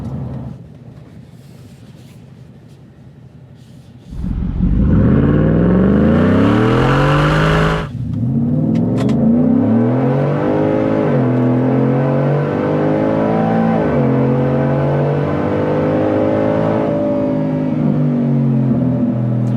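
A Ford F-150 pickup's 5.0L V8 roars to life and revs hard under full throttle, a deep, loud exhaust note climbing steadily through the gears, heard from inside the cabin, with no talking.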